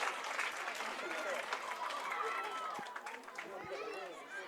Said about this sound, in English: The Armagh crowd down to my right love it.